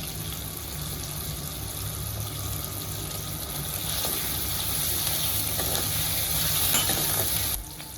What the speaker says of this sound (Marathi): ह्याच्यामध्ये एक मिडियम साईजचा टॅमॅटो कापून टाकणार थोडंसं हिंग टाकतो